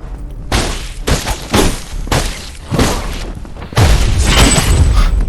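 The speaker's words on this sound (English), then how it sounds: "There's a nice execution blow there" Saber strikes ending in an execution blow in the action game Thymesia, a series of loud sharp slashing impacts in quick rhythm, then a heavier crashing hit that rings on.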